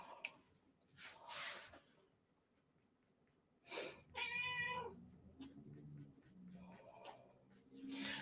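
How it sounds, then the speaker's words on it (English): A pet cat lets out one clear, drawn-out meow midway through a quiet room, with soft rustling and a few faint scratches before and after it. "What you doing there, kitty?"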